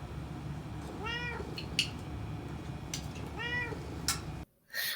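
A cat meows twice, clear and fairly close, with rising and falling calls spaced about two seconds apart over a steady background hum.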